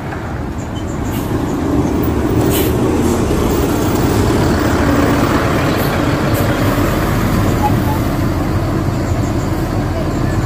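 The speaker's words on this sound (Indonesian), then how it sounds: "Tidak lama ada bus Gunung Harta juga sudah masuk terminal Ronggo Sukuwati." A Gunung Harta intercity bus at Ronggo Sukuwati bus terminal in Pamekasan gives off a loud, steady, close diesel rumble that fills the whole stretch amid general terminal noise.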